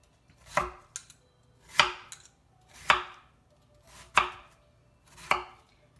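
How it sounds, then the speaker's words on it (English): A knife cuts a watermelon into 1-inch slices, five firm chopping strokes at an even pace, each a crisp crunch ending in a thud on the board, close and clear with no talk. "we're just going to take this and cut it in about 1-inch slices"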